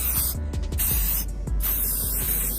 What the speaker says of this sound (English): Do not spray it on the glass, just keep spraying the plastic.